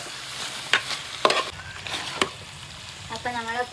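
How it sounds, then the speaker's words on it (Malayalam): Pork with curry leaves is stirred in a frying pan, giving a low sizzle with several sharp spoon scrapes and clanks; a brief voice-like tonal sound comes in near the end. "ഇളക്കി എല്ലാം കൂടി സെറ്റാക്കാം"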